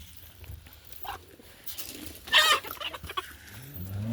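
Chickens being given grain, cluck softly and scratch nearby, with one louder, sharper squawk in the middle among scattered pecking and rustling sounds.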